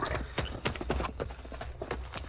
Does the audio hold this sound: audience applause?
no